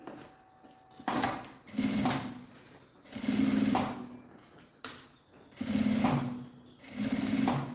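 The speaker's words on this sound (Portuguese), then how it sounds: "Uma costura com um pé de máquina." Sewing machine running in several bursts while stitching a seam around a bag, each burst a steady mechanical whir of about a second with short quiet pauses between, close and fairly loud with no talking.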